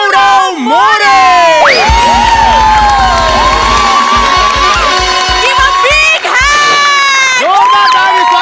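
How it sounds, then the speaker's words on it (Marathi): Studio crowd cheering and whooping loudly to welcome Marathi actor Gaurav More onto a comedy show stage, with a bright musical fanfare playing throughout and a host's voice calling out over the noise. "जोरदार टाळी स्वागत करा या नटाचं."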